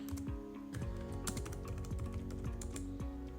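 Router commands are typed on a computer keyboard in a quick, irregular patter of close key clicks, with a few heavier strokes and brief pauses between bursts.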